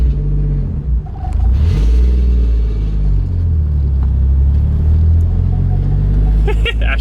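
Steady deep engine rumble from a Toyota Chaser JZX100 with a 450 hp 1JZ engine, heard from inside while driving on the street, loud and continuous with brief rises in throttle and a voice talking over it.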